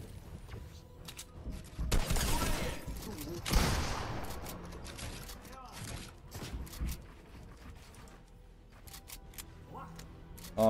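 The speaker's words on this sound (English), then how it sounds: "He has really good shotgun." Shotgun blasts in a building-style shooter game, a couple of loud booming bursts standing out amid scattered game noise, with a voice talking over them.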